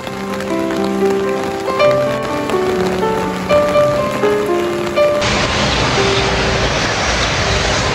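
Steady rain pours outdoors in Cameroon, a broad continuous hiss that fills the second half alone after music fades out, loud and even throughout.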